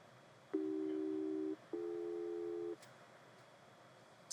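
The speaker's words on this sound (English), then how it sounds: "you should be able to hear the audio tone by the speaker or headphones if you have it installed" Two steady electronic beeps of about one second each come from an avionics test set's continuous audio test tone through a speaker or headphones, separated by a short gap, clean and even over low background hiss.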